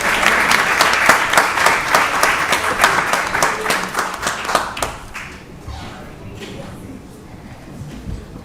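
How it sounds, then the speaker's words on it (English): A round of audience applause at a county board of commissioners meeting, loud and dense clapping from the room that gradually thins and fades out, with faint voices underneath toward the end. "Let's give them another round of applause."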